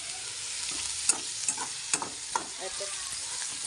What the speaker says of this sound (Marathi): छानपैकी जरा कांदा लाल होतो परतून घेते